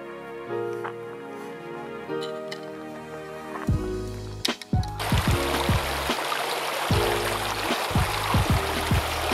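Creek water rushes steadily as a broad, bright hiss on a backpacking trail near Willett Hot Springs in Ojai, joining partway through while music with a strong beat keeps playing over it.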